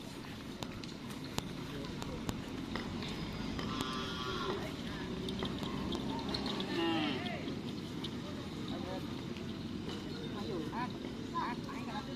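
Cattle lowing at a bull-racing training ground in Pamekasan, Indonesia, amid a busy outdoor soundscape, with people talking and steady background noise throughout.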